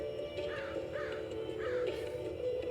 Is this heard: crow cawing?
yes